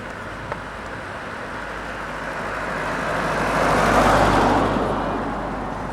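At a road cycling race, a car or motorbike approaches and passes by, a rising then fading roadway whoosh that swells near the middle and tapers off.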